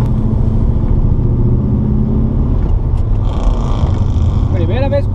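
A car pulls away at the Curitiba Motor Show 2015, a loud, steady engine rumble up close with a commentator talking over it and a rising tonal whine near the end.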